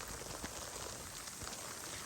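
Steady rain patters evenly on a surface at a rice paddy during rice planting, soft and continuous with no voices.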